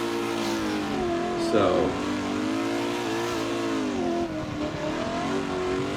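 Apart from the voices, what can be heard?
drift car engine revving during a drift competition run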